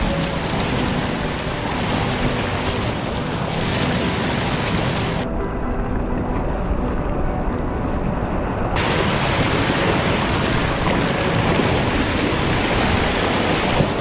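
Rushing rapids of the St Mary's River near Sault Ste Marie, a dense, steady roar of churning white water that stays loud and constant throughout, with a brief dip in the hiss partway through.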